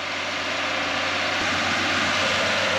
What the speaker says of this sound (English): I am tired of riding that tractor.